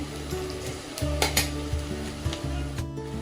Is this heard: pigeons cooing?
no